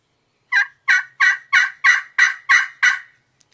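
A turkey slate call played with a striker produces eight crisp, evenly spaced yelps in a steady rhythm, loud and close, with nothing else around them.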